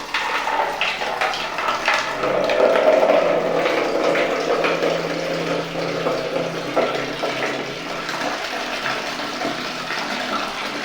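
Steady rushing water flows and splashes onto plants for several seconds, a continuous close pour with a slight swell near the start.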